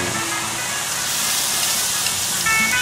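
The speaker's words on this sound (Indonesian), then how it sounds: "Sekarang kita masak bumbu habangnya." Bumbu habang spice paste sizzles steadily in a pan, a continuous broadband frying hiss that stays fairly loud and even throughout, with no voices.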